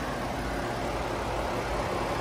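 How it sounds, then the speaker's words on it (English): A car engine idles steadily in an open engine bay at an auto auction yard, a continuous loud low rumble heard close up with no speech over it. "engine's running perfect and smooth"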